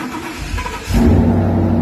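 A Liberty Walk kit car with a red exhaust starts quietly, then its engine jumps at about one second into a loud, steady low rumble that holds near and strong to the end.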